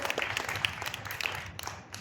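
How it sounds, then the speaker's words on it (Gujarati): Scattered applause from an audience at a school annual function, fairly faint and brief, with loose individual claps rather than a full ovation. "તો એમની માટે એક વખત ખૂબ જોરદાર તાળીઓ થઈ જાય"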